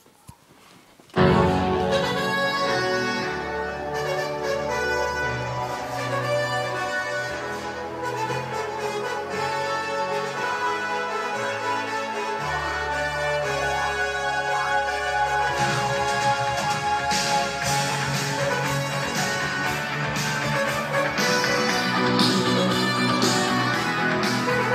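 A song plays through a Bose iPod dock, filling the room at a steady level after a quiet start, with no talking.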